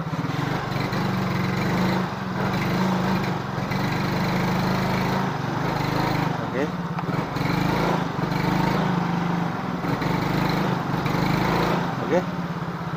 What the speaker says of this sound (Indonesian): Nah, gas gede baru mau jalan. Nah, nyendat nyendat.